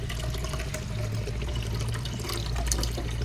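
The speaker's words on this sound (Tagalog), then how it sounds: "Maglalagay na tayo ng tubig dito sa ating kasirola." Water poured steadily into a cooking pot for palitaw, a continuous splashing, gurgling stream close by with no speech.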